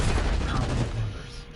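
Rapid SMG gunfire in the Call of Duty game, a dense, continuous spray of shots with low booms, loud and close, tapering slightly toward the end with faint voices underneath.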